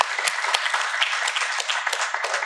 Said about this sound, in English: I especially want to give a round of applause to all of the panelists who just did an excellent job.